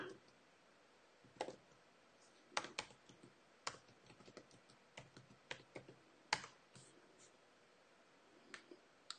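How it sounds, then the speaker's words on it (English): Faint keystrokes on a computer keyboard come in irregular bursts and single clicks, close but quiet, with pauses between strings of typing. "I'll type it in here for you."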